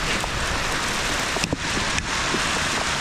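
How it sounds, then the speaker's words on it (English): Hail falling outdoors, a dense, steady patter and hiss of pellets striking surfaces, loud and continuous with a few sharper hits standing out. "And once again, it's hailing outside."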